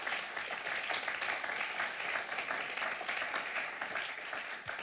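A church congregation applauds and cheers for Jesus in dense, sustained clapping that runs without a break, somewhat distant, with voices mixed faintly into the crowd noise.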